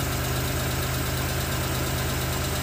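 Suzuki F6A engine running steadily, close up and loud, with a constant mechanical drone and slight knocking rattle; the engine had been overheating and was getting a water pump replacement.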